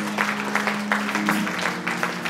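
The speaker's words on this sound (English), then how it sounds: "Everyone clap their hands, clap their hands, clap their hands." A church congregation claps hands together in steady, rhythmic bursts over sustained music, the clapping fairly loud and close with no talk on top.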